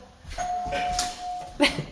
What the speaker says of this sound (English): The doorbell works.